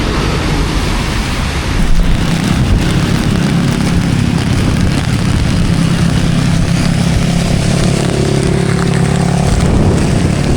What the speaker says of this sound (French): on s'est arrêté ici quoi, parce que il pleut trop